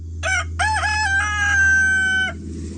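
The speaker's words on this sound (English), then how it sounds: "Here is an epic battle between a boy and a rooster." A rooster gives one loud, close crow, a short opening burst followed by a long sustained call that fades out, during a backyard standoff with a boy, with no talking over it.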